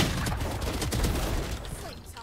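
Rapid Valorant gunfire from a suppressed weapon, a dense, steady burst of shots running loud for about two seconds before thinning out, with faint game effects trailing at the end.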